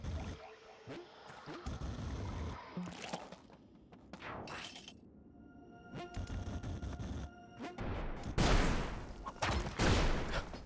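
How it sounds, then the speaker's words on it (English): An explosion erupts in a video game as loud broadband bursts and crackling debris, with the heaviest blasts near the end, scattered among quieter clattering game sounds. "I heard that explosion."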